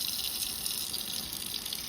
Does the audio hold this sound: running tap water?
yes